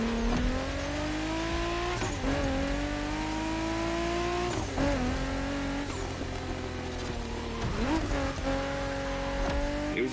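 Race cars in The Crew Motorfest video game, engines revving hard and climbing through gears with repeated shifts and tire squeals, loud and continuous, with a voice briefly audible underneath.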